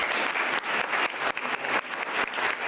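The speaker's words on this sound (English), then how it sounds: "Hillary Clinton's speech at the Council on Foreign Relations started off with applause." Steady applause from an audience at Hillary Clinton's Council on Foreign Relations speech, a dense wash of many hands clapping at close range that swells and dips slightly but keeps going without any voice over it.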